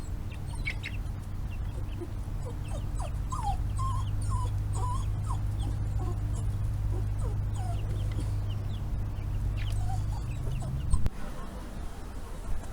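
Chickens cluck outdoors in short, scattered calls over a steady low hum, while a dog named Suki whimpers and whines nearby.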